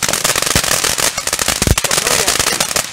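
Independence Day fireworks and firecrackers popping in a rapid, irregular series of sharp bangs, several loud and close, over a dense crackling wash, with people talking faintly in the background.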